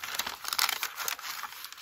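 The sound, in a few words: crumpling regular paper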